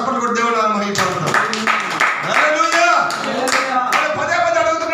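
A congregation clapping at a Sunday morning prayer meeting: scattered sharp hand claps sounding under a loud, continuous preaching voice.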